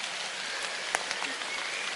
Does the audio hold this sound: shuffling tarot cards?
no